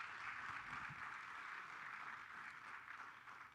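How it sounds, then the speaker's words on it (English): Sustained audience applause at a leadership and empowerment summit, a steady dense wash of clapping throughout without a break. "Round of applause."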